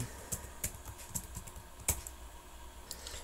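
Keys clack on a computer keyboard while unit prices are entered into a Microsoft Excel 2016 spreadsheet, a steady run of close, light keystrokes with a few sharper taps and no talking.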